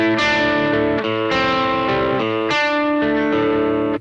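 A distorted electric guitar plays sustained, crunchy chords through an amplifier, loud and continuous with short gaps between changes.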